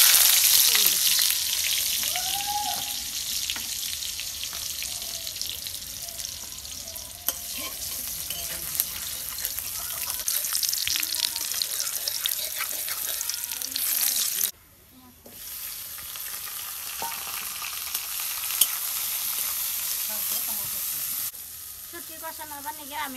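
Dried fish sizzles in a pan with onion and green chili, a bright continuous frying hiss broken by stirring scrapes and a brief pause, fairly close and steady throughout.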